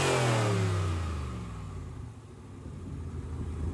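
A 5.7 V8 car engine revs high, winds down toward idle, then begins climbing again, heard close with a deep rumbling tone and no knocks or rattles.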